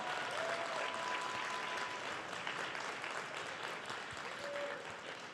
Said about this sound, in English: let's give John O'Grady a round of applause